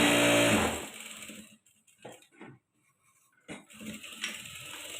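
A sewing machine stitches the hem of a collared salwar top in a brief loud whirring burst at the start, then falls to soft scattered handling clicks and rustles before picking up again faintly.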